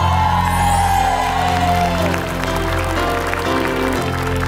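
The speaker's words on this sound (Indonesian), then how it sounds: "Kasih tepuk tangannya" Sustained clapping from a large TV game show studio audience, dense and steady throughout, with a few faint cheers mixed in.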